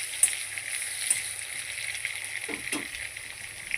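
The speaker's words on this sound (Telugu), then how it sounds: "ఇప్పుడు ఈ బుడమకాయలను కొంచెం హాఫ్ కుక్ అయ్యేంత ఫ్రై చేసుకుందాం." Budamakaya cucumber pieces sizzle in a pan with green chillies, ginger and garlic, a soft, steady frying hiss with faint stirring clinks, close and quiet, without talk.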